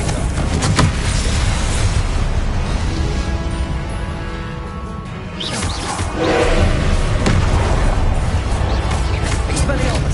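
Confringo spell blasts in Hogwarts Legacy combat, loud booming explosions and crashes thudding through a dense, continuous wash of battle noise.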